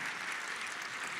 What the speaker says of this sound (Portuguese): salva de palmas para ele